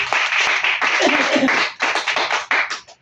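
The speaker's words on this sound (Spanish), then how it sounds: "Den un aplauso al Señor" A church congregation claps together in a dense burst of applause that thins into scattered, uneven claps near the end, close and fairly loud.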